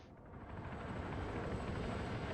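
Helicopter in the Arma 3 video game, a low rumbling rotor and engine drone that swells slightly and holds steady and fairly faint, with no voices.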